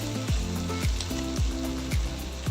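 Pork frying in a pan for pork binagoongan, a steady loud sizzle with a few sharp tonal pops and clatters recurring roughly every half second, close up and with no talking.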